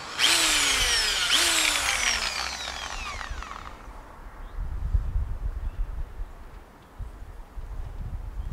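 Power drill driving screws to fit hinges onto raised garden bed covers, two loud rising whines back to back in the first few seconds, then quieter knocking and handling noise outdoors with faint birds.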